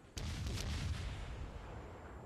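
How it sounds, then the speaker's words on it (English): Naval gunfire from a Benson destroyer firing shells blind in a World of Warships ranked battle: a sharp report followed by a sustained, dense booming rumble that slowly fades. "Blind fire a few shells."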